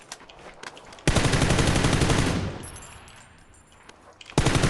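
Loud, close automatic gunfire in PUBG, a sustained burst that fades into a tail, followed by a short pause and another burst starting at the end, with no talking.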